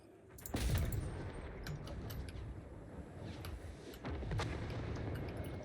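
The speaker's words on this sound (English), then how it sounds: "gunners and archers are starting to shoot." Massed gunners and archers firing in a Total War: Warhammer 3 battle, a dense rumbling wash of distant volleys and impacts with a louder burst near the start and another swell late on, no talk.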